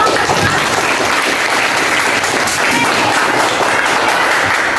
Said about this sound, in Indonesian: Oke, terima kasih Haiwa sudah mempresentasikan ya. Tepuk tangan untuk